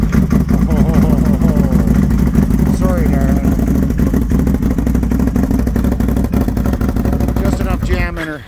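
2022 Can-Am Renegade X-MR1000R ATV, cold, cranking as it tries to start: a loud, steady churning engine turnover with rattling clatter for several seconds, then dying away, with someone talking over it.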